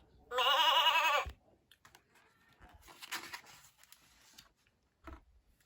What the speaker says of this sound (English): The lamb is a baby sheep.